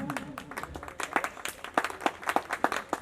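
An audience at a gathering claps in a scattered, fairly sparse round of applause, individual hand claps distinct and moderately distant, with faint voices beneath.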